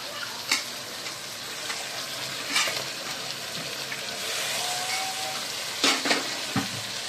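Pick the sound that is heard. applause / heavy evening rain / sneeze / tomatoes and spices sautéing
tomatoes and spices sautéing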